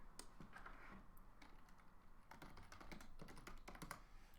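Rapid typing on a computer keyboard at a digital art desk, a close, quiet stream of uneven key clicks with no talk.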